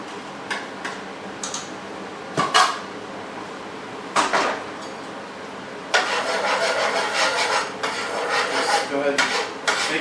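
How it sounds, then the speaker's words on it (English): Scrambled egg for pad thai cooks in a hot pan, with scattered utensil clinks and ticks followed by a steady sizzling hiss punctuated by scraping taps. "we're gonna cook the egg, just scrambled egg basically."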